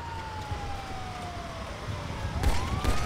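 Police car siren in GTA V Online: a wailing electronic tone slowly falls in pitch and then sweeps back up, steady and fairly close, over background game noise and engine rumble.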